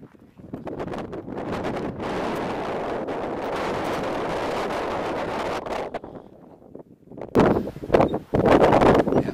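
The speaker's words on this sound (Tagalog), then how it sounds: "medyo malakas yung hangin" Strong wind buffets the microphone atop the Masada watchtower in Israel, a loud continuous roar that eases briefly and then returns in heavy gusts.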